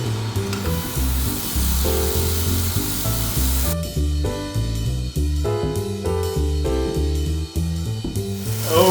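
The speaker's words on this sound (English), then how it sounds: "frying rabbit without any cover, without whatever, just on dry pan" Rabbit pieces frying in a dry pan with no oil or cover, a close, steady crackling sizzle throughout, with background music.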